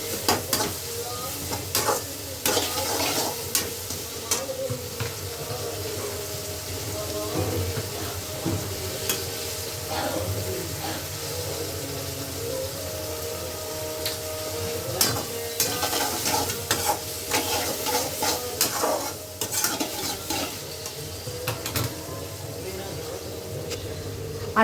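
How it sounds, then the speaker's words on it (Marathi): Onions sauté in a pan with salt and turmeric while being stirred for kanda poha, a steady soft sizzle broken by repeated spoon scrapes and clinks, with someone talking over it throughout. "हळद टाकून मी ते छान परतून घेणार आहे"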